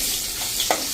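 Six or seven curry leaves sizzle and crackle in hot oil for khichdo, a steady close frying hiss with a couple of small pops.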